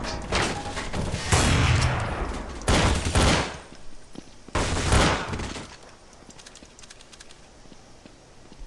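Bursts of gunfire in a tactical first-person shooter match, three loud clustered volleys close by with sharp, rattling reports, separated by short pauses and trailing into quieter ambient crackle.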